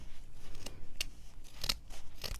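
Fabric scissors snipping through thick quilt material, a few crisp separate cuts spaced across a quiet room, close and fairly soft with no talk.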